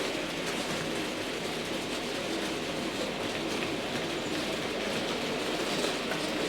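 Four model railway locomotives with freight stock run together on a layout in DC analogue mode, giving a steady, continuous rumble and clatter of wheels on track with no talk over it.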